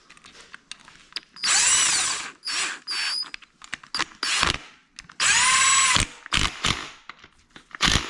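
A power tool drives timing cover bolts on a Camaro SS engine, whirring in several loud, close bursts of a second or so with clicks and short pauses between runs.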